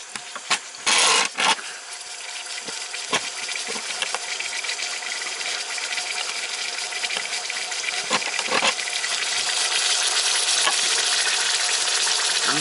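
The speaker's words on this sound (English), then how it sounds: "I'm just going to let this sear on all the sides." A sirloin tip roast searing in a Power Pressure Cooker XL: steady hissing sizzle that builds gradually in intensity, with a few clicks and clunks of the meat being set in the pot at the start.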